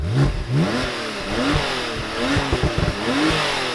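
A Porsche 911 Turbo S of the 991 generation sits in neutral while its engine is blipped several times. Each sharp rev rises and falls back, close and loud, with mechanical clatter between revs and no talking.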